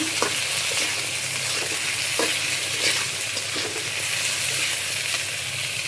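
Potatoes tossed into a pan of frying silver carp fish curry, giving a loud steady sizzle with stirring scrapes, no voices.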